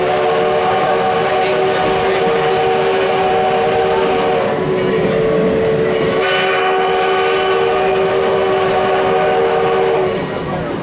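Sierra Railway No. 3 rolls along the tracks nearby with a loud, steady rumble, and a long whistle tone holds over it for most of the run before fading near the end.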